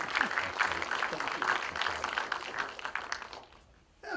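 Evening presentation audience applauding for the speaker Kevin, a steady wash of clapping from many hands in a room that fades out near the end.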